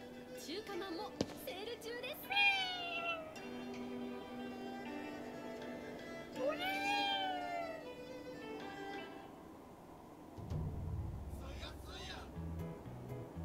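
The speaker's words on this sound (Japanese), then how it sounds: "何あれ、猫？" A yokai cat in Ghostwire: Tokyo meows in a few short, rising and falling calls, fairly clear over a steady game ambience with a low rumble near the end.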